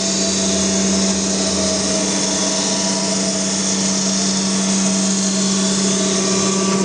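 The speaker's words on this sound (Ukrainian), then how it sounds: "шліфуємо стола" A surface grinder grinding its table: a steady high-pitched mechanical whine runs continuously and loudly, with a constant humming drone beneath and no pauses.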